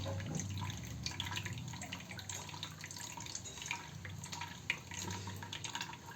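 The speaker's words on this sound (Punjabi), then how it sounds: "ਇਸ ਤਰੀਕੇ ਨਾਲ ਆਪਾਂ ਪਾਣੀ ਸਾਰਾ ਇਮਲੀ ਦਾ ਕੱਢ" Faint, close wet squelching and trickling as water is squeezed and drained from soaked tamarind, with small irregular drips.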